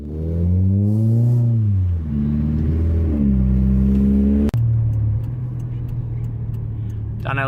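Engine of a 1998 Mitsubishi Lancer on a test drive after a power steering fluid change, a steady loud hum that rises and falls in pitch with revving, then settles after a sharp knock near the middle; music plays over it.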